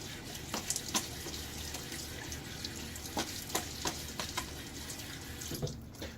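Water running from a tap over a safety razor being rinsed between shaving passes, a steady close splashing hiss with a few brief sharper clatters and taps against the sink.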